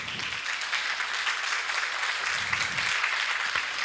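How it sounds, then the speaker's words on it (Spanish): A church congregation claps steadily in sustained, even applause filling a large room during a service, with no voices standing out. "Denle un aplauso al Señor"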